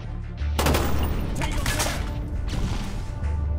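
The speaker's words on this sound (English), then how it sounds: "All I needed was a 74U." Rapid AK-74u automatic gunfire in the Black Ops video game, a sustained loud burst of shots with crashing impacts running almost the whole clip, with brief voice underneath.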